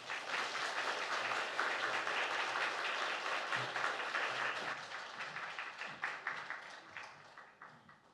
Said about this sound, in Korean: 나오실 때 크게 박수로 환영해 주시면 감사하겠습니다